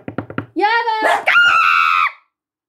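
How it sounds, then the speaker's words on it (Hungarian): A person lets out a loud, high squeal close by, rising into a long sustained shriek after a few quick voiced bursts, then stopping abruptly. "Azért visítottam."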